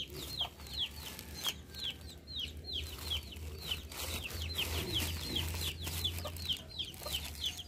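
Chickens, including a brooding hen, cluck and chirp in quick repeated calls over a low steady hum, fairly faint and somewhat distant.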